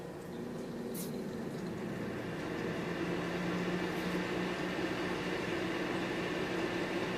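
A Lasko 754200 ceramic heater with adjustable thermostat runs with a steady, moderate fan whir and low motor hum, holding an even drone throughout with no voices.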